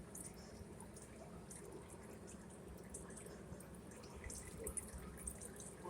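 Used motor oil drains from a Chevy Traverse into a pan, a faint, steady trickling and dripping stream with soft splashes, close and quiet, heard alone.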